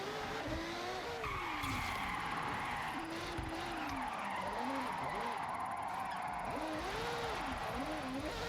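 A Mazda Furai drifts in Forza Horizon, its engine droning steadily while the tires squeal in wavering, rising and falling skids, loud and continuous throughout, with a voice faintly underneath.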